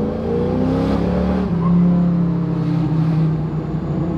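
A first-generation Camaro with carburetors accelerates down a road, its engine droning loudly with a rising then steadily held pitch, heard from inside the car throughout.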